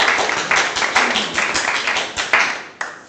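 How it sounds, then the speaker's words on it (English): A church congregation applauds Danny and David at a morning service: steady, close, dense clapping that continues throughout with small surges and no talk over it. "we need to give them a clap this morning"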